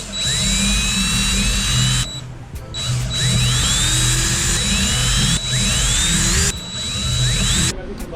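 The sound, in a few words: drilling holes for motorcycle speaker pods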